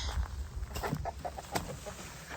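Several short clucks from a rooster or chickens close by, over a steady noisy outdoor background.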